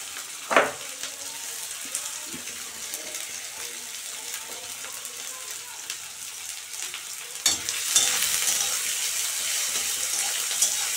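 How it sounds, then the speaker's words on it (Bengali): Torn onion, garlic and chili drop into hot oil for a dried-fish chutney, an initial sharp splatter followed by a quiet simmering hiss that swells into a louder, brighter sizzle after a clatter partway through. "তেল গরম হয়ে গেছে। এখন আমি পেঁয়াজ, রসুন আর লঙ্কা ছিঁড়ে দিয়ে দিলাম।"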